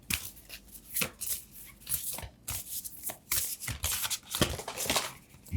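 Oracle cards shuffled by hand in a steady run of crisp riffling and slapping bursts, close and fairly loud, with no talking.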